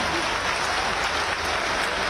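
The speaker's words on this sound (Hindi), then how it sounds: "इसमें तो जोर से ताली बजाओ ना।" Dense, loud clapping from a large crowd at a BJP political rally in Madhya Pradesh, a continuous burst of applause lasting a couple of seconds.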